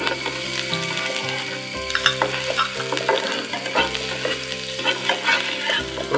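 Chopped ginger and garlic frying in a pan for a Kerala-style chicken curry, with a loud, steady sizzle and repeated scraping and stirring strokes that run without a break, and no voices.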